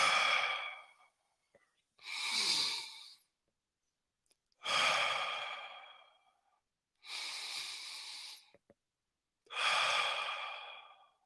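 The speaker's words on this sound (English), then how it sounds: "They say take 3 deep breaths." Slow, deep breaths come one after another, five long airy exhales separated by short silent gaps, close and fairly quiet with no talking.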